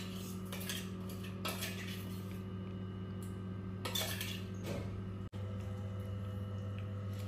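Meat is stirred by hand with masala to marinate it, giving soft scraping and occasional metallic clinks of a spoon against a bowl over a steady background hum, with no talking.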